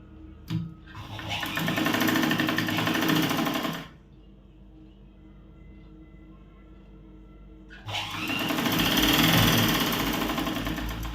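A sewing machine stitching a blouse with four tucks runs in two short, close, whirring bursts separated by a few seconds of quiet.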